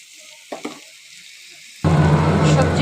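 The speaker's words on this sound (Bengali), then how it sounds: "সবজি ভাজা হয়ে গেছে" Boiled potatoes, carrots and capsicum with chopped tomato and Maggi masala for chicken chow mein hiss loudly in a hot pan, the strong sizzle bursting in suddenly after a quiet start and a couple of soft clinks.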